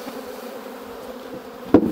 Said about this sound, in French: Il y a toutes les abeilles encore.